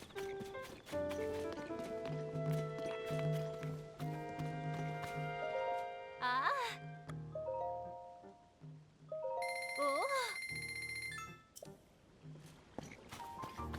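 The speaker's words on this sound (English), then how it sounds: "Seems like a fast horse!" A horse's hooves clip-clop rhythmically in The Legend of Zelda: Tears of the Kingdom, mixed with bright chiming game music and tonal sound effects that continue throughout.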